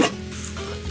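Sukiyaki with sukiyaki sauce simmers in a covered pot over a camp flame outdoors in winter, giving a brief, steady soft bubbling hiss close by.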